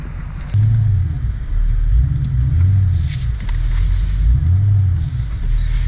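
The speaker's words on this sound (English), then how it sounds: "Let's see if the truck will finally drive out." A stuck truck camper's engine rumbles and revs in low, drawn-out surges as it strains to drive out, steady and close, with faint crackling outside.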